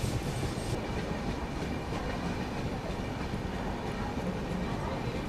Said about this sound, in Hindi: और फाइनली अपना अराइवल हो रहा है मैहर रेलवे स्टेशन पे।